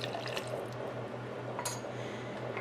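Pineapple juice is poured into a measuring cup in a home kitchen: a faint, short liquid trickle and splash over a low background hum.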